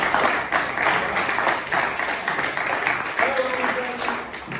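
An evening audience at a political talk gives a round of applause, a continuous moderately loud spread of many hands clapping, with a faint voice briefly audible underneath.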